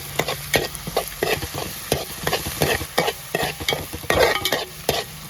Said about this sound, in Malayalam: ഇഞ്ചി കൂടെ ഇട്ട് കൊടുക്കുകയാണ്, എടുത്തിട്ടേക്കാണ്. നല്ല ഒന്ന് മൂക്കാൻ വേണ്ടി ഇളക്കി കൊടുക്കുക.